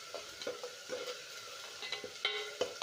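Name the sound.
tomatoes frying in a pan for white chickpea curry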